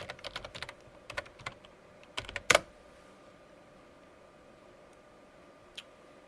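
Quick bursts of keystrokes on a computer keyboard as a command is typed into a command prompt, one louder clack near the middle and then a quiet pause with one faint tap later.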